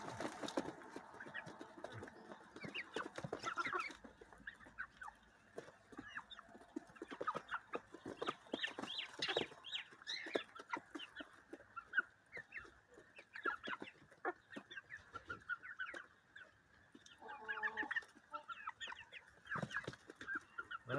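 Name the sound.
rooster chicks clucking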